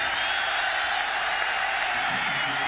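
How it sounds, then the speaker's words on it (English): A sellout stadium crowd at a college football game, Arkansas State at Oklahoma, roars as a steady, dense wash of distant noise with no break. "Sellout crowd, getting anxious, want some action."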